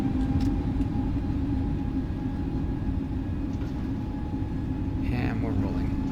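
An Airbus A320neo's engines hold a loud, steady roar at takeoff thrust while the airliner rolls down the runway, a broad continuous rumble with a faint tonal whine and brief talk near the end.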